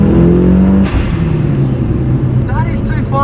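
Mitsubishi Evo 7 accelerating, a loud close engine roar with rising pitch that drops off briefly at a gear change, then climbs again under a voice.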